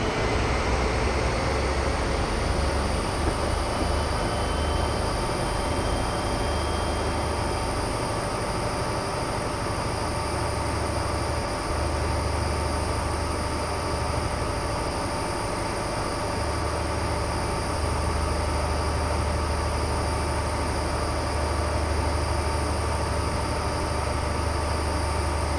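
Train pulling away in Train Sim Classic, a loud continuous rail rumble and engine drone with steady high-pitched tonal whine, unbroken and alone without talk.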